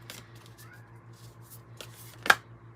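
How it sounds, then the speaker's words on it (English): A cat gives a single faint, short meow in the background. It is heard over a low mains-like hum, and soft rustling comes before it. "I just heard a cat in the background."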